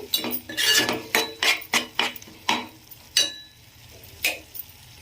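A spoon stirring a pot of curry, a series of separate scraping, clinking strokes about every half second, close by and fairly quiet, with no talk.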